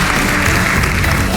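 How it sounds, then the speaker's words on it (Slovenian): Audience in a seminar hall clapping after a motivational talk, a loud, dense, continuous wash of applause from a large crowd, sustained evenly with no pauses. "Res je velik aplavz."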